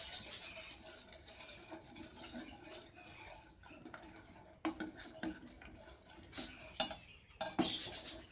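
A spoon stirs fruit custard in a pan as the milk thickens, quiet intermittent scraping and clinking against the metal in an irregular rhythm, soft and close.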